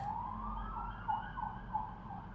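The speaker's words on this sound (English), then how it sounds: "I'm hearing sirens in the background." A distant wailing siren rises and falls steadily over low background rumble, faint but continuous throughout.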